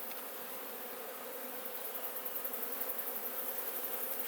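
Honeybees at an opened backyard beehive hum in a steady, dense buzz that swells slightly louder toward the end, with no voices.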